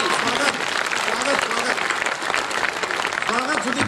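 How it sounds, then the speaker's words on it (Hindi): Loud, sustained clapping from a large audience at a Hindi poetry gathering (kavi sammelan) in Janjgir, dense and continuous with some crowd voices mixed in. "मैं चाहता हूँ बस एक बार जोरदार तालियां बजा दीजिए।"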